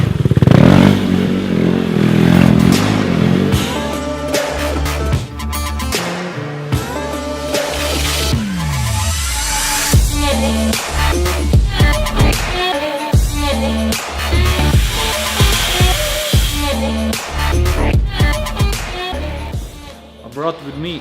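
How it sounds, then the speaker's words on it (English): A KTM RC 390 motorcycle revs and spins inside a workshop, its engine rising and falling through repeated loud revs with clattering and tire scrapes, while someone talks over it close by. "I took your RC a little bit to make some spins here in the workshop"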